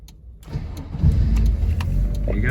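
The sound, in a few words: MG TF 1.6 engine starting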